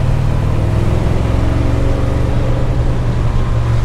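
1961 Pontiac Catalina with a 421 engine and four-speed, a loud, continuous low engine drone from inside the car while cornering, its pitch shifting slightly partway through as gears change, with no talk over it.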